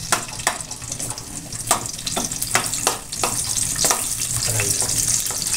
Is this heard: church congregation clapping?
no